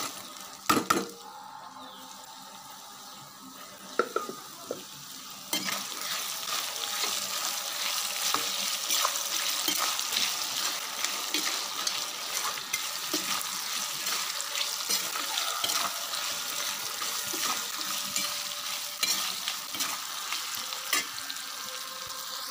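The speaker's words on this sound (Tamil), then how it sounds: "இப்போ பாருங்கள், நல்லா வதங்கி வருது நம்மளுக்கு." A mango rice mixture sautés in a pan, giving a continuous close frying sizzle that grows louder partway through, broken by scrapes and clinks of a spoon stirring against the pan, with no talking.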